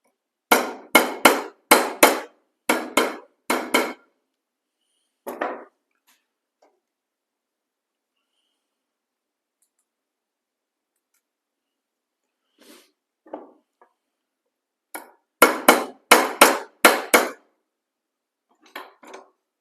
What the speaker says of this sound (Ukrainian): Підрівняємо відрівняємо молотком.